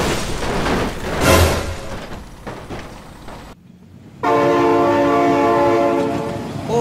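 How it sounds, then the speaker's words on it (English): In a truck-and-train crash video game, a train thunders close by with rolling rail noise and swelling roar, then after a brief cut a loud sustained multi-tone train horn blares steadily. "Oh my God, train!"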